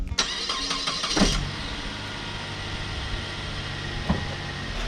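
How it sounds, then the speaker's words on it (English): A Saab 9-5 cranks and fires up, the starter whir catching into a steady idle that continues evenly with a faint click later on. "so we're going to start it up and do that."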